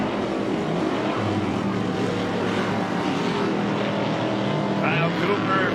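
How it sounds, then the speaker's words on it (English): Super stock race truck engine at wide open throttle at Crandon: a steady, loud, continuous engine roar throughout, with a commentator's voice over it. "Kyle Cooper, throttle is wide open going in that back section, trying to chase down the top 2"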